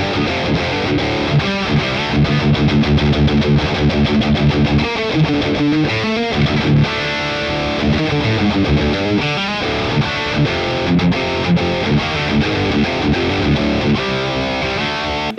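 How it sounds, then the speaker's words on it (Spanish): Electric guitar played through a heavily distorted amplifier, loud chugging riffs and sustained crunchy chords in a continuous, driving rhythmic passage, close and alone. "la distorsión de este amplificador a mí en lo personal me encanta."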